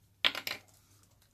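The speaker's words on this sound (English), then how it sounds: "but this time I'm going to use tape runner." Tape runner laying adhesive onto a junk journal page, a short burst of crisp ticking and rasping clicks lasting about a quarter second, then near silence before a faint scrape at the end.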